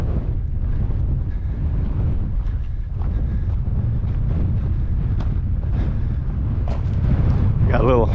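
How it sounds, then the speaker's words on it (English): Strong wind buffets the microphone on Buck Hill in the South Unit of Theodore Roosevelt National Park, North Dakota: a loud, continuous low rumble with gusty surges that never lets up for the full stretch. "This is some crazy wind up here"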